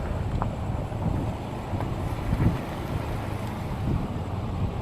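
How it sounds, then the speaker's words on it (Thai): Night wind buffets the microphone at a snakehead fishing spot on the water, making a continuous low rumbling roar with small gusts and no talking. "โอ้ยลมหยุดพักสัก สิบนาทีได้ไหมเนี่ย"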